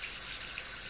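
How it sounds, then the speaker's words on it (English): Kitchen faucet running through a new low-flow aerator, a steady hiss of flowing water with no pauses, close and fairly loud, nothing else heard. "Now you can see there's less water flow, but the pressure is still good."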